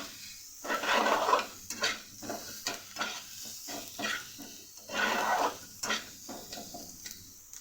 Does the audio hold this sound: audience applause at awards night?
no